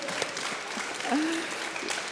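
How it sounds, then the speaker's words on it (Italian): Audience applause at an Italian Open Science talk, a steady broadband clatter of many hands filling the whole stretch, with a brief voice rising through it midway. "un applauso"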